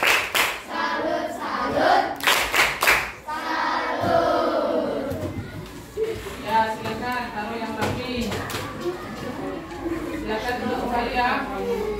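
A small audience bursts into a brief round of rhythmic clapping, loud and close, mixed with energetic call-and-response chanting voices that carry on after the claps fade.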